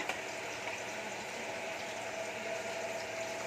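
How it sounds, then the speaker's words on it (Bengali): Pomfret fish sizzles steadily in hot oil in a pan, a constant close bubbling hiss with no pauses. "এবার তেলের মধ্যে, তেল গরম হয়ে গেছে, আগে মাছ ভেজেছি, একটা একটা ভাজবো।"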